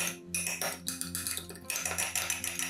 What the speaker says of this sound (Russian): Все перемешиваем до получения однородного соуса, насколько это возможно.